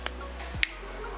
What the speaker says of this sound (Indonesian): kalau kita tepukan dia akan menyala